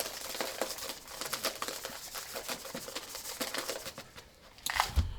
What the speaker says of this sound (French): Donc, on rajoute un peu de sable.